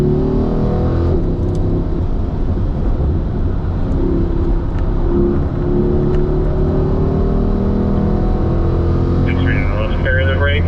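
A Corvette on a racetrack at a driving school accelerates out of a corner, its engine roaring loud and steady with a rising pitch throughout, while a voice talks over the engine.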